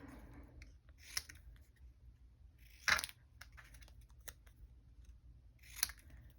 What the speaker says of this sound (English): using our trusty paper snips, we're just going to snip Make a Wish apart